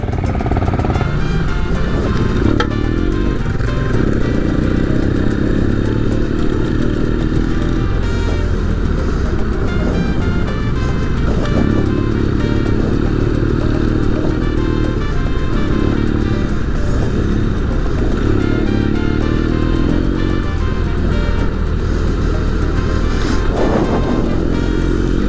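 A BMW F800GS adventure motorcycle on the road, its engine droning steadily and loudly for the whole stretch, with rising and falling revs as gears shift and wind rushing past.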